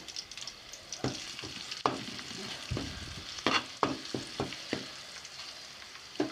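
Spices frying with turmeric in a pan for Kuwaiti majboos biryani, an irregular series of close spatula scrapes and clanks over a low crackling sizzle, with no talk.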